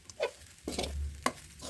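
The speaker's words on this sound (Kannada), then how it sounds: "ರೈಸ್ ಮಿಕ್ಸ್ ಮಾಡ್ತಾಯಿದ್ದೀನಿ" Cooked rice being stirred into a tempering in a pan for lemon rice, heard as soft scraping strokes with a sharp clink of the ladle and a faint sizzle, close and quiet with no speech.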